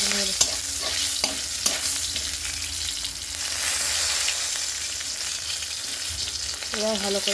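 Cumin seeds, black cumin and whole red chillies sputter and sizzle in hot oil in a pan, with a steady loud fry broken by occasional scrapes and taps of a stirring spoon.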